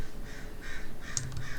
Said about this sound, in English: Oh, bird.